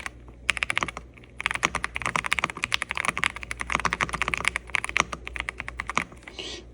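Continuous typing on a quiet DAREU EK87PRO wireless gasket mechanical keyboard, soft rapid key clacks in uneven bursts, close up, with brief pauses and no talking.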